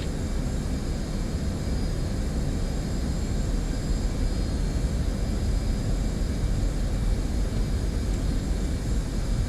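F-16 fighter jet taking off from runway 15 in the DCS World flight simulator, a loud steady roar of broadband engine and wind noise that holds constant without any voices.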